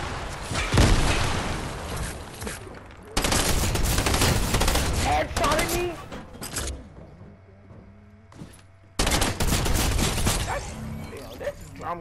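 Rapid gunfire bursts from a bomb-style gun in a shooter video game, loud and dense in several long volleys separated by brief quieter gaps, with a person talking over parts of it.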